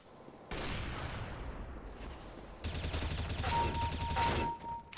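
Suppressed M4A1-S rifle fire in Counter-Strike: Global Offensive: continuous bursts of shots over noisy game ambience, growing louder midway, with a thin ringing tone near the end.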